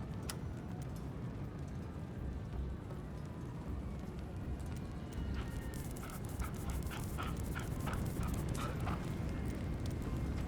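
A dog barks and whimpers in the turn-based dark fantasy RPG Crown Wars: The Black Prince, its barks coming quietly in a scattered series over a low background rumble.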